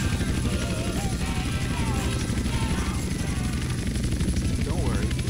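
Helicopter in the video game GTA San Andreas, flown over the east of Los Santos, with a continuous rapid rotor chop and engine drone throughout. Game music and voices sit faintly in the background.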